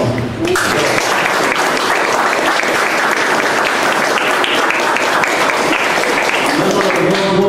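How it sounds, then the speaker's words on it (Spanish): Sustained audience applause at a Spanish-language church gathering on autoimmune illness, a steady, dense wash of clapping that runs loud and unbroken for the whole stretch after a brief quieter start. "vamos a darle un voto de aplauso para el Señor"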